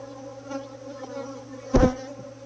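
Honey bees hum steadily around a hive during colony work, a close continuous drone with one louder buzzing burst as a bee passes near.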